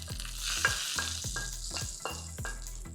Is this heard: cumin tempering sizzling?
yes